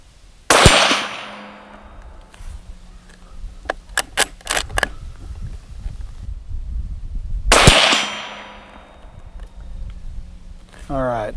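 Two sharp, loud gunshots from a Marlin 783 .22 Magnum rifle fired at the range, spaced about seven seconds apart. Each crack rings out briefly, and metallic clicks and clatter from handling the rifle fill the gap between them.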